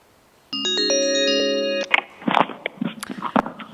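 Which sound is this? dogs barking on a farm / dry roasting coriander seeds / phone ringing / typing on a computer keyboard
phone ringing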